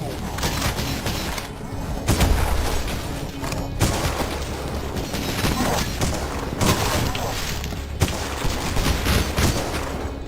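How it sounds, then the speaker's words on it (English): A flare gun fires in the retro shooter Cultic, its sharp cracks and booms repeating every couple of seconds over a dense, constant din of mechanical game noise. "Oh, it's a flare gun."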